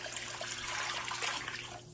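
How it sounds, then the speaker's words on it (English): Five cups of water poured into a cooking pot over chicken and tomatoes, a continuous close rushing splash that runs the whole short stretch before easing slightly at the end. "I'm adding my 5 cups of water."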